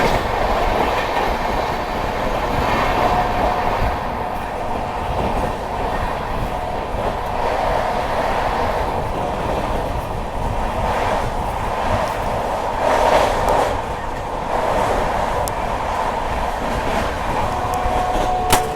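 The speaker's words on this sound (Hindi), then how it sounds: "यहाँ फतेहपुर के स्किप पे भी कोई ट्रेन यहाँ पे क्रॉस हो रही है" Continuous rumble and rhythmic clickety-clack of wheels over rail joints heard from aboard the Bhubaneswar Duronto Express as it runs at night near Fatehpur, steady and fairly loud throughout.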